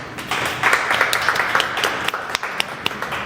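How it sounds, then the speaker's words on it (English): Scattered clapping from a small group at a business event in Hamilton, uneven and brief rather than a full roar, with a few sharper claps standing out near the end. "Round of applause."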